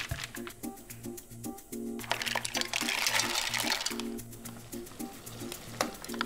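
Drained mussels tumble with liquid into a pot of white wine broth with a splashing, clattering rush that swells mid-clip, over steady background music.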